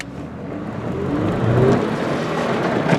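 A 1999 Mitsubishi Montero Sport XLS in four-wheel-drive low revs and shifts through its gears, the engine note rising in steps, moderately close, with road and wind noise and no talking.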